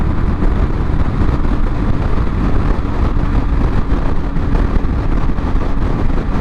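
Honda ADV 150 scooter engine held at full throttle near 60 mph on an open road, a loud, steady drone mixed with heavy wind buffeting across the microphone, continuous with no pauses.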